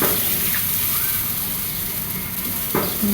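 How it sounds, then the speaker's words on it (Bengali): Water pours into a pan of spiced fish curry with potatoes and lentil dumplings, giving a continuous close hiss and bubbling sizzle and a brief clatter near the end. "এখন ঝোলের জল দিয়ে দিছে"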